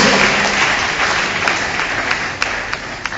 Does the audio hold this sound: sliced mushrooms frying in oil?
no